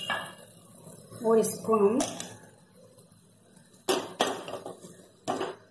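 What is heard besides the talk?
mixing poha chiwda in a pan with a spoon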